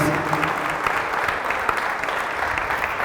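A church congregation breaks into strong, continuous applause during a Catholic healing service, a full, even wash of clapping from many hands filling the space.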